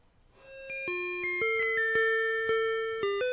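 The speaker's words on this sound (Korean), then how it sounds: "1교시 먼저 또 종소리와 함께 시원하게 출발해 볼까요?" A school bell chime signalling the start of class rings out as a melodic sequence of clear, sustained tones stepping up and down. The notes are loud and resonant and sound alone.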